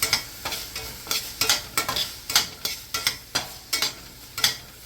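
Steak with onions and jalapeno frying in a pan for ramen, with an even sizzle under rhythmic stirring scrapes that come roughly twice a second, close and fairly quiet.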